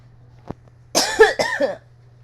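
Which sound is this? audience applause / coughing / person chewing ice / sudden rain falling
coughing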